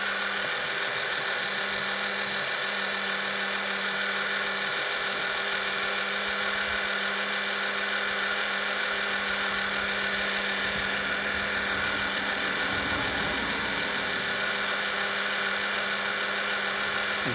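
A pump draws engine oil out of a Mercedes SLK R170 during an oil change, producing a steady, continuous mechanical whir and hum that stays constant throughout.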